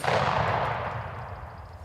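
A single rifle shot fired while hunting in grassland: a loud, sharp blast at the very start that rolls off into a long, fading reverberant tail.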